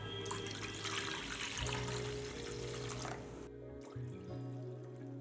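Water pours in a steady stream into a vessel of mint paste for mint juice, the flow changing pitch as it fills, then cutting off and briefly resuming.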